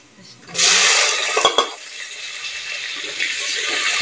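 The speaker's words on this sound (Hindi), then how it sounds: "तो अब मैं इसमें टमाटर ऐड कर रही हूँ।" A loud hiss and sizzle as tomatoes drop into browned onions frying in a pan, with a couple of utensil knocks, then fading to a steady low sizzle.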